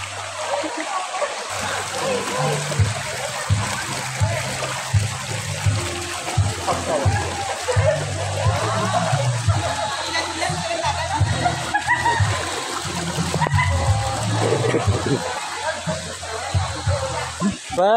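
Heavy rain pours and splashes outdoors as a loud, continuous wash of water, with people talking intermittently over it.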